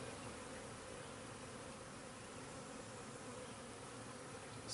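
Dense, steady buzzing of many honey bees inside a hive, close and continuous, with no voices.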